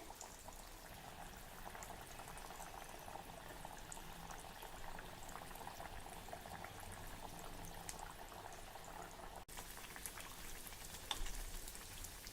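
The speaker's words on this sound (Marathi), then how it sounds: "मध्यम गॅसवर हा वडा छान खरपूस आपल्याला तळून घ्यायचा आहे" Pumpkin vada deep-frying in hot oil over medium heat, a steady soft bubbling and crackling sizzle that stays even and close throughout, with no talking.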